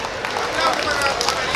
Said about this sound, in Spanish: fuerte los aplausos para los novios